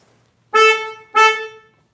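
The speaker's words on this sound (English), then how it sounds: "I'll hop in there and honk the horn" Two honks from the horn of a 2023 Kia Soul EX+, each a bright, rich-toned blast of about half a second, close and loud, separated by a short gap and with no talk around them.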